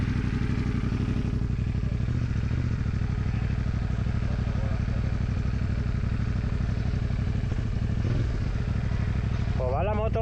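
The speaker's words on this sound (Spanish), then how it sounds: "Pues va la moto un poquito ahogadilla" A CF Moto 450 MT motorcycle engine runs steadily with a low, pulsing drone that sounds slightly choked and not fully responsive, heard up close on a gravel trail, with a voice talking over it.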